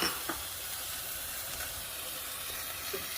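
Chopped tomato going into a hot pan of fajita filling, a steady loud sizzle and hiss that keeps up evenly, with no voices.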